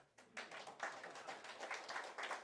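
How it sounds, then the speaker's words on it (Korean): Quiet scattered clapping from an audience at a Korean forum lecture, a loose patter of hands building over a couple of seconds, somewhat distant. "박수 한번 칩시다."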